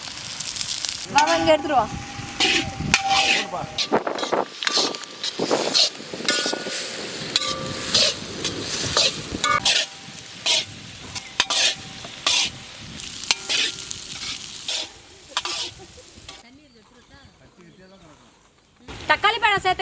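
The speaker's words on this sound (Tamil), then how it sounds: "வரமிளகாய் சேர்த்துக்கிறோம், வெட்டி வச்ச வெங்காயம் போட்டுக்கிறோம்" Chopped onion and dried red chilies with fennel seeds sizzling in hot oil in a kadai, stirred with repeated scraping strokes, loud and close, with someone talking over the frying and a quieter stretch near the end.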